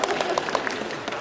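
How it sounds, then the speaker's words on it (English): Choir members at a rehearsal clap for themselves, a dense, steady patter of many hands filling the room for about a second before thinning out. "Yes, applaud yourself."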